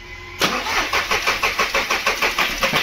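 A VW Polo engine cranks and catches, then settles into a loud, close idle with a steady pulsing beat and an underlying ticking knock, with no voices.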